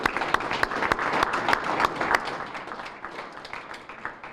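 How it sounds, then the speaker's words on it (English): An audience applauding local elected officials such as the mayor and city council at a community breakfast meeting, with crisp close claps standing out over dense clapping that gradually eases off. "Just a round of applause for our local officials"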